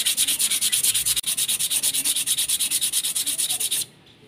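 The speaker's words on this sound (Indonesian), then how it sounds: "pakai amplas yang halus" Rhythmic rubbing of fine sandpaper back and forth in quick, steady strokes while flattening a Honda Vario scooter part, close and loud, with a brief pause near the start and an abrupt stop.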